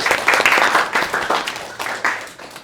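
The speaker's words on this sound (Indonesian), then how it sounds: "tepuk tangan untuk Mbak Iza untuk jawabannya" Classroom applause for a student's answer during a teacher training session on generative AI basics, a short burst of moderately loud clapping from a small group that swells and fades in waves.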